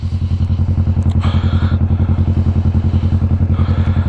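A Kawasaki Vulcan S 650 motorcycle being ridden, its engine thrumming in a loud, close, rapid even pulse throughout, with some wind and rattling noise on top.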